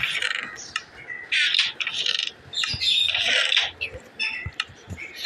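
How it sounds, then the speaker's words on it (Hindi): Loud, harsh parrot screeches burst out repeatedly in uneven bursts, close by, with shrill squawks overlapping one another. "हमारे तोते बहुत ही जोर जोर से चीखते हैं।"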